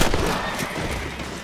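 Gunshots in Red Dead Redemption, a dense burst of loud blasts at the start fading into a rumbling tail, short and close, with no talk.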